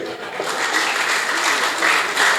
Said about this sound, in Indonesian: Coba tepuk tangan kalau Anda setuju.